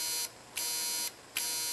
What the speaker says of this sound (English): if I go across the coil, I could actually energize it, you could hear it buzz